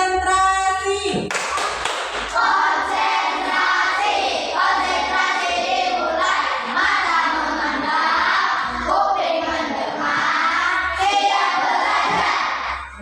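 Schoolchildren chant the 'tepuk konsentrasi' clapping routine together, a close, loud blend of voices in unison punctuated by brisk patterned claps.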